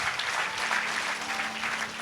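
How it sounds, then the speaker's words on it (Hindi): A congregation claps steadily through a Sunday church service, dense continuous applause with no break, fairly close and filling the room. "ताली बजाएंगे प्रभु के लिए।"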